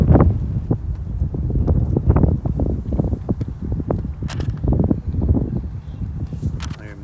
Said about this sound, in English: This wind has been ever present and gusting yet again.